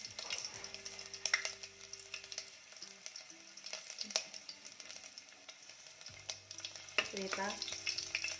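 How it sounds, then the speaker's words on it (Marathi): Ginger fries in hot oil in a pan for a Malvani white pea curry, giving a quiet, continuous sizzle with occasional utensil taps and a faint low hum in the background. "तेल तापलं की यामध्ये आपण टाकणार आहोत आलं"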